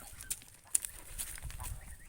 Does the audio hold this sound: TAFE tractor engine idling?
no